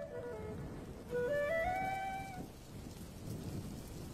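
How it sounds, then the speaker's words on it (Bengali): Steady rain with low thunder rumbles on a monsoon day, a broad wash of rainfall that holds for the whole clip, with a brief tonal whistle-like sound rising over it early on. "কি সুন্দর বৃষ্টির দিন,"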